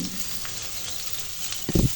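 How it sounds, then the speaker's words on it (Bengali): Slit green chilies and chopped onion fry in hot oil in a pan, giving a steady close sizzle with a brief louder burst of stirring near the end. "কাঁচামরিচটা আমি মাথা থেকে সামান্য একটু চিড়ে নিয়েছি। এখন এটাকে ভালো করে ভাজবো।"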